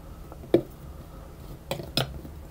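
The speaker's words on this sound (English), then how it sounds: "I'm just going to stir the butter around to get it coated in the flour." Cold butter is stirred into flour in a bowl, making a few scattered, muffled scrapes and knocks against the bowl in a quiet kitchen.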